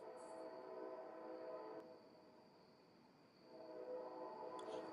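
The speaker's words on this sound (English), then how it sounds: "I'll try to talk louder with that train going by" A train rumbles past continuously as a steady, faint rolling roar with a brief dip midway before swelling again, no voices over it.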